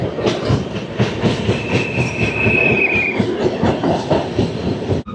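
A Garib Rath Express train runs between stations on the Agartala to Kolkata line, rumbling steadily with rhythmic wheel clatter and a brief high wheel squeal midway, heard loud and close from inside the carriage.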